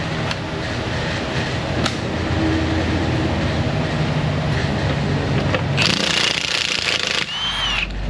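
A large impact wrench hammers at a seized axle nut on a 2013 Ford Escape in a repair shop, a loud continuous rattling burst with a sharper, harsher stretch near the end, no talking.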